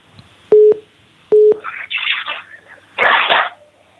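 An incoming call rings through on a live Hindi Christian question-and-answer call-in program: two short, clear phone tones sound about a second apart, then rougher bursts of noise crackle over the line.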